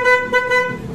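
An old car horn honks in a steady, nasal tone, loud and close, with a brief dip before it sounds again and fades toward the end.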